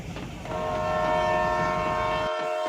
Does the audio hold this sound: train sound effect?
yes